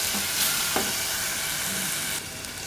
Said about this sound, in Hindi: इसको अच्छी तरह पका लेंगे, अदरक लहसुन को और हरी मिर्चों के पेस्ट को।